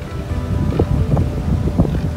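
Gusty wind buffets the microphone on Railay East Beach in Krabi, Thailand, a steady low rumble with irregular thumps and no clear talk.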